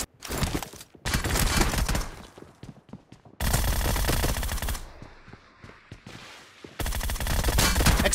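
Rapid bursts of automatic gunfire from a PUBG Mobile team deathmatch, loud and dense, in several sustained volleys separated by brief near-silent gaps.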